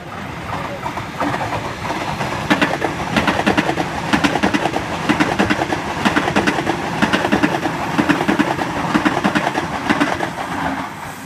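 A Sydney Trains Waratah A3 passenger train passing at Macdonaldtown, a loud steady roar with rhythmic wheel clatter over rail joints throughout, close by, with someone talking and birds faintly behind.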